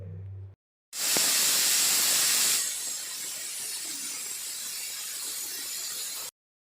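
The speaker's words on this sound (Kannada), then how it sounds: "ಎಲ್ಲ ಮಿಕ್ಸ್ ಮಾಡಿ ಕುದಿ ಬರೋ ಟೈಮ್ಗೆ 2 ವಿಷಲ್ ಹಾಕ್ಸಿದೆ" A pressure cooker cooking peas pulao vents steam in a loud, sustained hiss that bursts in strongly, eases to a steady rush for several seconds, then cuts off. A brief different sound comes just before it.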